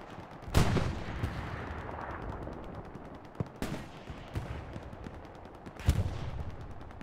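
Gunfire in a Hell Let Loose battle on Utah Beach, with loud close rifle shots at intervals and softer distant shots and rumble filling the gaps.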